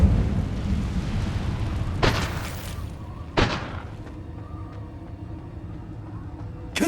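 Incendio fire spell cast in the Hogwarts Legacy video game: two sharp whooshing bursts a little over a second apart, each flaring then fading into a low ambient rumble, with a faint third hit at the end.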